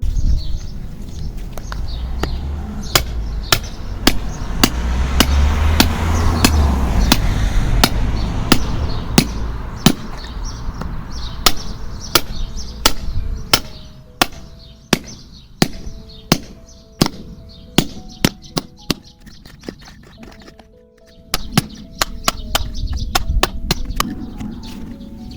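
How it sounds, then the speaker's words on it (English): Hammer and chisel breaking up buried concrete in a garden flower bed, struck in a long run of sharp, fairly regular impacts with short gaps, close and loud, with a brief pause before the blows resume. "I'm just going to kind of chisel away at it"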